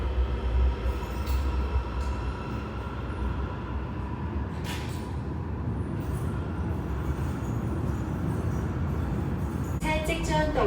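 An MTR metro train pulling into South Horizons station makes a continuous heavy rolling rumble for several seconds, ending with high squealing brakes and chimes as it slows at the platform.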